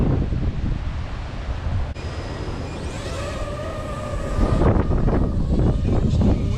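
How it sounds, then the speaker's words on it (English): Strong hurricane wind at a beach, heard as a continuous loud buffeting roar with gusting surges and microphone wind noise, with a faint whine from a drone in the middle and no talking. "Interesting wind, guys."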